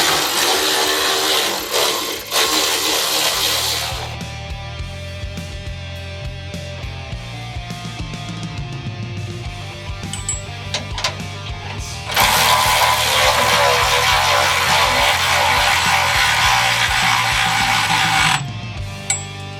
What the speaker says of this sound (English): The electric ratchet will be your best friend.